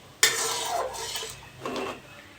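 Semolina puli poured into sugar syrup in a pan on a gas stove, heard as a sudden clattering splash followed by brief sizzling and scraping, then a second softer clatter, with no talk.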